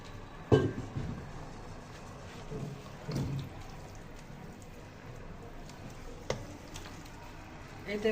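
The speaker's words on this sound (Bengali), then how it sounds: "এতে ভাবে ভালোভাবে নাড়াচাড়া করতে থাকবো।" Carrot halwa cooking in milk in a pan is stirred with irregular scraping and wet squishing strokes over a faint sizzle, with a few louder clanks of the spoon against the pan.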